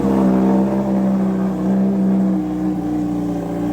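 A Suzuki Hayabusa with a changed exhaust and stage 2 ECU remap idles through a warm-up, a loud, close, steady engine drone with a slight rise in pitch.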